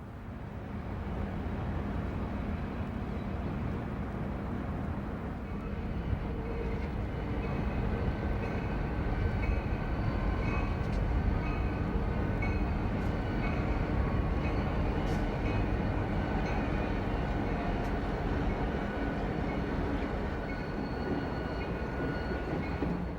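A northbound autorack freight train departs in Cincinnati with a steady rumbling roll of wagons and wheels, loud and continuous throughout, with occasional faint high squeals.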